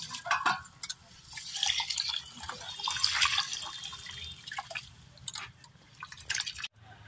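Two kilograms of rice are washed in water, giving soft splashing, dripping and swishing at close range, quiet and steady throughout.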